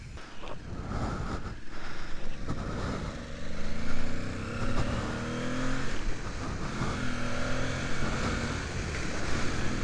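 An Aprilia Tuareg motorcycle engine pulls through gears on a test ride, rising and falling rev sweeps with gear changes, heard from the rider's position under wind buffeting across the whole stretch.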